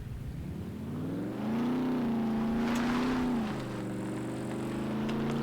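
A truck engine drives off-road in the Scum video game with a steady, loud drone, which rises and strains in the middle and then eases back to a lower, continuous hum.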